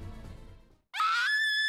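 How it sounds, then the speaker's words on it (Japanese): A girl's high-pitched scream rises sharply and holds, loud and piercing, in a video game set in 1970s Tokyo, cutting in after a brief silence that follows low rumbling ambience. "テントの外から少女の叫び声が聞こえた"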